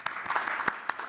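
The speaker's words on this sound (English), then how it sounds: "So a round of applause" A short burst of audience applause at a panel discussion, with scattered sharp claps standing out from a steady patter of hands.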